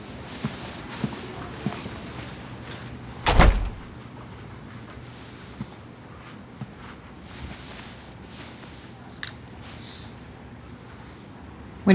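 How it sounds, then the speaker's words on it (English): An interior door closes with a single firm thud partway through, set against quiet room tone with faint shuffling and scattered small knocks before and after. "Close the door on the way out."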